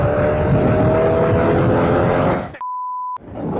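A Boss Hoss motorcycle fitted with a 5.7 litre Corvette V8 engine drones loudly and steadily up close, then is cut off by a short electronic beep before the engine sound returns.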